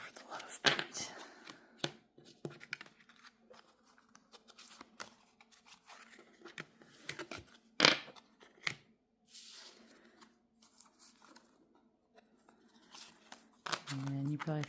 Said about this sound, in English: I have one more shuffle to do.